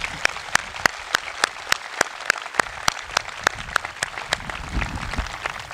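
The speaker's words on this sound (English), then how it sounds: "Please give these students a round of applause." An audience applauds at a high school graduation ceremony. One nearby clapper beats out sharp, evenly spaced claps over softer, more distant applause from the crowd for several seconds.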